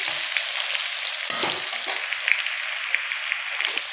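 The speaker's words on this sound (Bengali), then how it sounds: "আলুগুলো লম্বা পিস করে কেটে নিয়ে নুন আর হলুদ দিয়ে তেলের ওপরে ভেজে নিচ্ছি" Long-cut potato pieces coated with salt and turmeric fry in oil with a loud, continuous hiss, scattered small pops and one brief stirring clatter, heard close with no talking.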